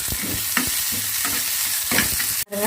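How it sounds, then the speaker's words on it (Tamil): Chopped onions sizzle loudly in hot oil in a kadai, a dense close frying hiss with stirring scrapes, briefly dropping out near the end before resuming. "ஆயில் வந்து நல்லா ஹீட்டான பிறகு நம்ம கட் பண்ணி வச்சுருங்க ஆனியனை ஆட் பண்ணிக்கலாம்"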